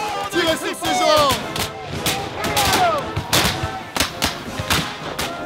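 Musket volleys crack and boom at a Battle of Perryville Civil War reenactment, with repeated sharp shots scattered through the clip, some close and loud, and shouted voices underneath.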